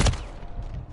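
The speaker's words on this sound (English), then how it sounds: "Covering your six. Shooting rockets." A rocket launch in a multiplayer video game: a heavy thumping blast right at the start, then a dense rumbling, crackling decay lasting under a second, with no talking.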